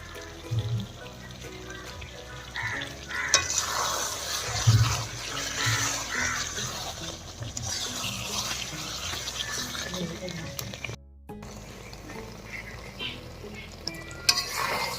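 Mutton is stirred and fried in oil for a Bengali kosha, with a steady sizzle, scraping of the spoon against the pot and occasional clinks throughout, close-up, briefly cut off near the end.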